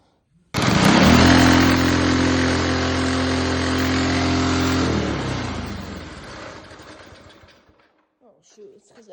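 A minibike with a Predator engine starts up and runs loudly, its small engine buzzing and rumbling at close range for several seconds before revving down and fading out.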